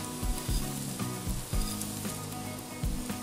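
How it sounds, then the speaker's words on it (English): Rice toasting in ginger, lemongrass and garlic oil, a steady loud sizzle and fry with repeated scraping stirs every half second or so, close up, no voices. "So we're gonna toast the rice a little bit, almost like when you're making a paella or, for example, a risotto"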